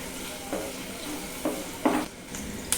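Garlic and green chili sautéing in a pan, a soft steady sizzle with a few brief stirring scrapes spaced about a second apart, fairly quiet and close.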